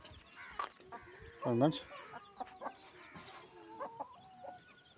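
Hens and roosters cluck in short bursts around a farmyard, one louder squawking call standing out, while someone talks intermittently nearby.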